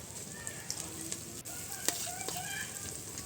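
Onions and green chillies frying in oil in a home kitchen, a faint, steady sizzle with a few scattered clicks and scrapes.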